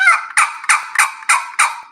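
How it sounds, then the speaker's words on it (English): Six evenly spaced, raspy hen yelps from a turkey box call, a rhythmic series of sharp scratchy notes, loud and close with silence between each. "hen yelp"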